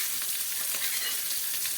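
Green chillies fry in hot oil in a kadai, already holding mustard seeds, cumin and curry leaves. A loud, dense, continuous sizzle hisses up close with no pauses and only faint crackles.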